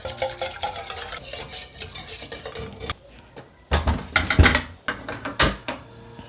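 A spoon stirs flour and water into a paste in a bowl, rapid, uneven clinking and scraping strokes close to the microphone, pausing briefly midway before resuming with louder, sharper taps.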